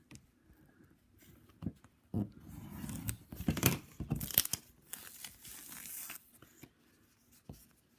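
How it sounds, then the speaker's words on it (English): Gyro-Cut rotating blade cutting out a sugar sheet, heard as close, soft scratchy scraping and crinkling strokes in a quiet room, louder in the middle and fading at the end. "where I used the Gyro-Cut to cut out the sugar sheet"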